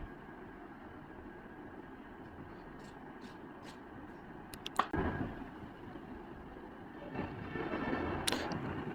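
Added train sound effect of a rumbling railway passing by, low steady rolling noise with a few sharp clanks and a louder swell near the end, quiet overall.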